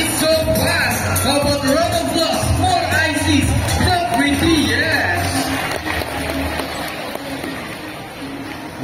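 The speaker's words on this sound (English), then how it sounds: "How about a round of applause for Isis, the prettiest?" A sea lion show audience at Manila Ocean Park claps and cheers for the sea lion Isis, steady crowd noise with whoops and shouts over an amplified host's voice.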